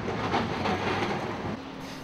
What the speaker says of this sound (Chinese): 在市中心有专门为旅游者设立的免费的环城游览电车，都是经过翻新的最老式的电车